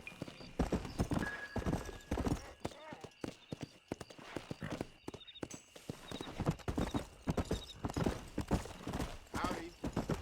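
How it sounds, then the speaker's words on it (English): Horse hooves clip-clop in a steady galloping rhythm in the video game Red Dead Redemption, with a brief whinny and voices talking over the hoofbeats throughout. "Looks like I'm just gonna ride this horse on out of"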